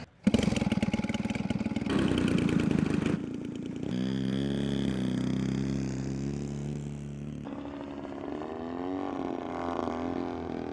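An AJ Aircraft 103-inch Slick 540 RC plane's petrol engine drones loudly overhead, its pitch shifting as the throttle changes, then eases into a lower, steadier hum as the plane comes in to land, with no voices.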